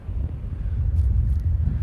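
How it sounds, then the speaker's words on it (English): Strong wind gusts of around 35 to 40 mph buffet the microphone by the water, a deep, rumbling roar that swells and surges continuously and loudly with no speech. "We're looking at about 35, 40 mile an hour gusts happening right here"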